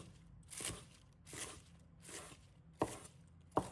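Spring onions are cut into short pieces on a board, about five soft knife chops spaced irregularly, the last two sharper and crisper, close up and quiet with no talk.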